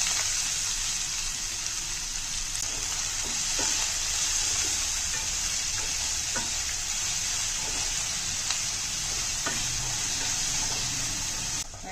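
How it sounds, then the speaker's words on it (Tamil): Steady, close sizzling of finely chopped onions frying in a hot pan, with occasional soft pops and scrapes, no voices. "வெங்காயம் நல்லா வதக்கி எடுத்து பாருங்க."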